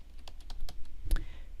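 A computer keyboard is typed on in a quick run of close, crisp clicks to enter a search, ending in a slightly louder pair of keystrokes.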